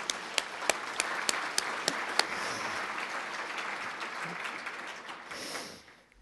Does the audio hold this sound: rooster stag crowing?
no